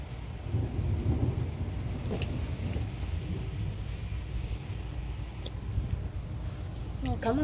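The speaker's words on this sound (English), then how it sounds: "It's gonna take more than a loud, super heavy thunderstorm to scare me." A severe thunderstorm in Laporte, Indiana brings steady rain hiss with low rolling thunder rumbles and scattered drips, moderately quiet and continuous throughout.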